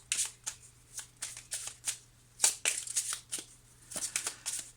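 Tarot cards are shuffled by hand in quick, soft riffles and flicks close by, a rapid irregular patter lasting a few seconds with no voice.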